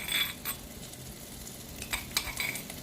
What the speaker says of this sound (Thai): ใส่พริกไป ผัดพริกให้หอมนะคะ